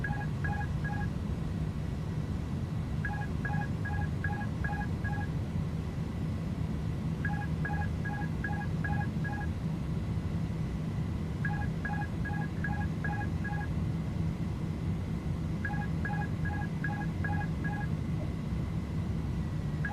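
A repeating electronic beeping cockpit warning alarm in Microsoft Flight Simulator 2020 sounds in quick bursts of pulses every few seconds over a constant low engine-like drone.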